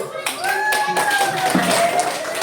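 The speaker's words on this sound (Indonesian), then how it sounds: "kelompok yang sudah berdiskusi dengan baik dengan temannya, kita beri aplaus dulu" A group of students claps together in a classroom, a steady burst of applause that runs through the whole moment, with voices calling out over it.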